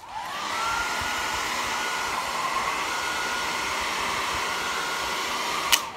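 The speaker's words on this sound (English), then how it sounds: "Let's get hair drying!" A hair dryer switches on and blows steadily onto paper, a loud continuous whooshing hum that holds level for several seconds, with a brief click near the end and no talking.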